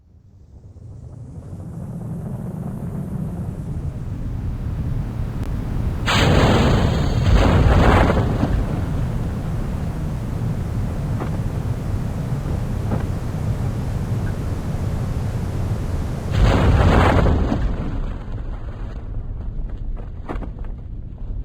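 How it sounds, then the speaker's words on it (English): Two deep, roaring explosion bursts in the video game Kerbal Space Program swell out of a steady rumbling wind-like drone, one early and one later, with no voices. "Again, those explosions."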